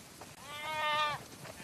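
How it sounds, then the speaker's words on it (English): Sheep bleating in The Last of Us Part II while being herded into a barn, one drawn-out wavering call rising in the middle, heard fairly close over quiet game ambience. "Now I'm herding some sheep in The Last of Us 2, guys."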